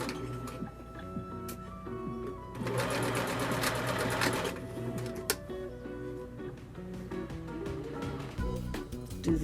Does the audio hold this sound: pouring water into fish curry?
no